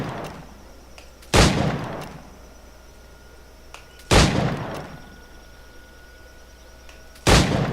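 Three sharp, loud gunshots ring out about three seconds apart in the Assassin's Creed 4 Black Flag shooting challenge, each followed by a fading tail over a quiet ambient bed.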